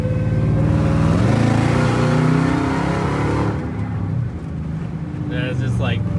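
A Dodge Challenger Hellcat SRT accelerates at under a quarter throttle, its engine a loud, deep, rising drone heard close up for several seconds before easing off, with a voice speaking near the end.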